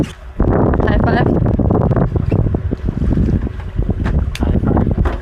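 A sailboat under way in open water while island hopping, with strong wind buffeting the microphone, rushing water and creaking movement, and voices heard faintly in the background.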